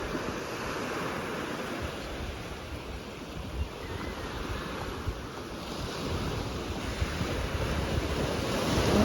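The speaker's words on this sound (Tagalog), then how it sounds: "Ang tahimik pa po ng dagat." Steady wash of calm sea waves rolling onto the shore around 6 a.m., a continuous broadband hiss with wind noise mixed in, no voices.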